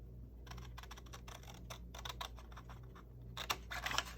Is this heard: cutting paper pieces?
yes